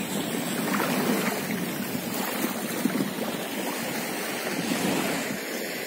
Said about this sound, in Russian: Такой небольшой бриз.